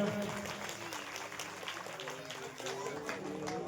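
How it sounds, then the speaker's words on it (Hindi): Audience clapping at a Hindu Shiv Purana religious discourse rings out fairly faint and uneven, with a loose rhythm of claps and a voice or crowd murmur mixed in. "सभी के लिए एक बार जोरदार तालियां।"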